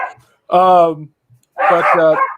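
A dog barks twice, loud and close, in two short harmonic bursts separated by a brief pause.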